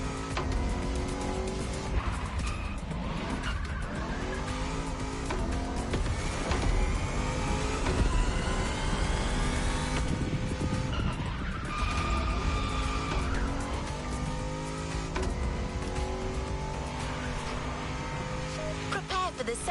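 An American muscle car skids and squeals its tires in a racing video game, with a steady loud engine roar and repeated tire screeches throughout.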